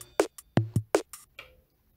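Drum loop sample played back on an Elektron Digitakt: a handful of crisp, close hits in a sparse two-second pattern, punchy low thumps alternating with short bright clicks and a fading tail, with no talking.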